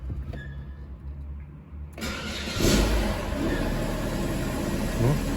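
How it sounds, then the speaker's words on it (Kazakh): A car engine, after a cylinder head replacement and now showing a check-engine error, starts after a couple of seconds of quiet and settles into a steady, loud idle while warming up, running on to the end. "Қазір көлікті қыздырып көреміз."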